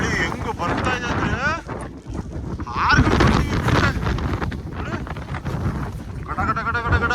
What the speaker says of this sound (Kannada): ಗಾಳಿ ಹೆಂಗ ಬರ್ತಾ ಇದೆ ಅಂದ್ರೆ